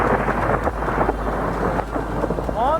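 Deep thunder rumbles through a steady downpour at a rainy campsite, the heavy rain hissing loudly and continuously with low rolling booms underneath; no one speaks.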